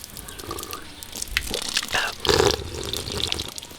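A small tap on a homemade water container lets water run and splash in short spurts, close and moderately loud, with a stronger gush near the end.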